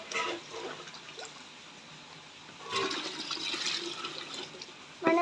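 Water poured into a jeevamrutham mixture, a gushing, splashing pour that swells in two bursts with a quieter trickle between, close and fairly loud, ending in a sudden splash.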